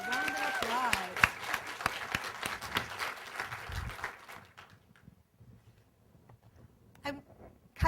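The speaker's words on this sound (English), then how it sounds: "Round of applause." Audience applause at a design criticism panel discussion: a few seconds of brisk clapping from a modest crowd that thins out and fades, leaving light room noise and scattered sounds.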